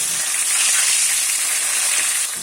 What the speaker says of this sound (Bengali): মাছের মাথাটা এপিট ওপিট করে ভালো করে ভেজে নিচ্ছি